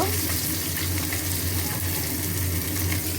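Vegetables (eggplant, taro, potato and a few beans) frying in a pan with a dense, steady sizzle that stays close and loud for the whole stretch, with no breaks.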